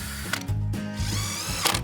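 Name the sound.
power drill driving a screw into a tube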